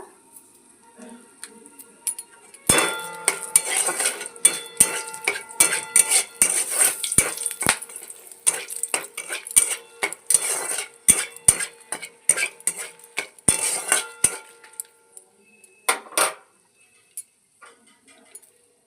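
Whole spices such as bay leaf, dried chillies and asafoetida are stirred in a pan with a metal utensil, giving dense rapid scraping and clinking strokes up close that thin out to scattered taps before falling silent.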